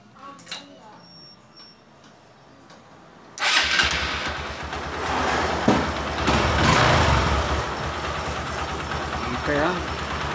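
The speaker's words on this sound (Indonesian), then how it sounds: "sekarang kita coba starter ya teman-teman" Honda Verza motorcycle being started with its electric starter, which has an intermittent starting fault; after a quiet lead-in the engine catches and keeps running loudly and steadily up close.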